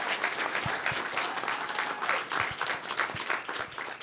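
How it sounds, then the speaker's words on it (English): An audience applauds Wilson Smith at a legacy event, a steady wash of many hands clapping at moderate distance, continuous and fairly even throughout. "I think everybody need to give Wilson the biggest hand"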